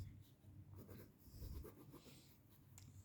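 Marker or chalk writing on a board in a chemistry lesson, quiet scratchy strokes in short bursts, faint and close, with a little low background murmur.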